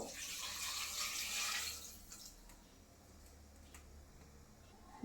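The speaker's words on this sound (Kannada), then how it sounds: "ಒಂದು ಚೊಂಬನ್ನು ನೀರು ಹಾಕ್ಕೊಂಡು" Water streams from a jug into a pot of cooking chicken sambar in a steady pour for a couple of seconds, then stops, leaving a few faint drips and light clinks.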